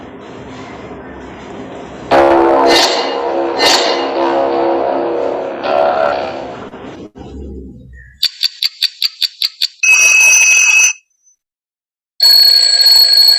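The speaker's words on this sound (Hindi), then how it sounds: "घड़ी की आवाज टिक टिक थी" A clock ticks in a quick, even run of sharp clicks, then an alarm clock rings loudly in two bursts of shrill ringing with a short silence between them, following an earlier stretch of tonal sound.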